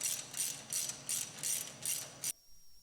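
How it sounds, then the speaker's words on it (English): Cap screws being drawn in by hand on the cylinder of a Jet Edge iP60-50 CNC sawjet, a close, steady run of ratcheting clicks in quick bursts that stops abruptly near the end. "Then draw the cylinder in with 2 of the cap screws, alternating from side to side."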